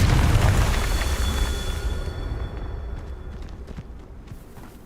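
A Confringo spell explosion in the video game Hogwarts Legacy: a loud, deep rumbling blast right at the start that slowly fades out over several seconds, with a faint ringing tone partway through.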